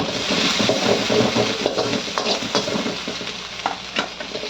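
Vegetable fried rice sizzles and fries steadily in a pan, loud and close, with rhythmic stirring scrapes throughout.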